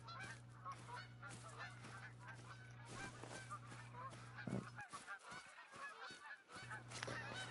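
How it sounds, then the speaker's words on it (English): Geese honking in theHunter: Call of the Wild, a flock of calls repeating irregularly at a moderate distance over a steady low hum, with brief pauses and no talking. "I hear the geese"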